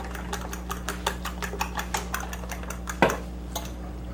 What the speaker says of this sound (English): There's no wrong way to stir rice pudding, right?